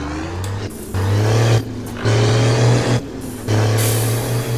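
A truck engine in Euro Truck Simulator 2 revs in three distinct surges, each rising to a steady drone before dropping back to a lower idle, loud and close.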